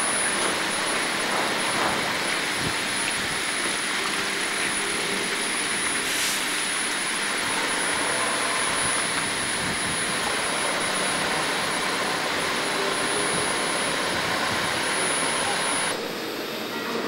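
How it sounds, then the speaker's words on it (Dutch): The engine of the floating grab crane GEMINI 2 roars as a loud, steady broadband drone, close and constant for the whole stretch. It eases slightly only at the very end. "Daar komt de motor."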